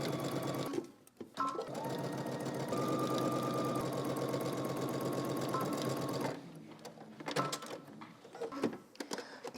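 A sewing machine runs a long, steady stretch of rapid stitching along a dress cuff with a 5/8 inch seam, then stops, followed by soft handling clicks and rustles of fabric.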